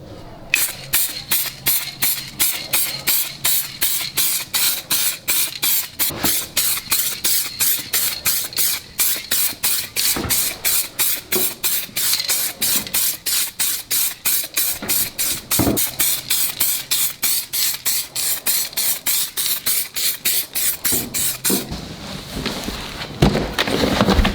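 U-POL Acid No. 8 self-etching primer is sprayed onto a pickup truck bed. It comes as a long run of short, evenly paced hissing bursts, several per second, close and fairly loud, with no voices.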